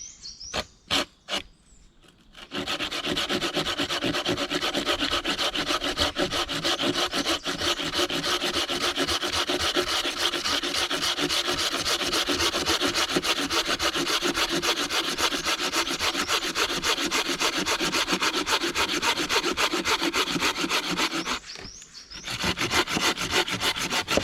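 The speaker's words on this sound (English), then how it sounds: "So I'm going to saw it just after this knot here" Alder wood is sawn by hand just past a knot, a fast steady rasping of back-and-forth strokes running close and loud for about twenty seconds, with a few short scrapes before and after.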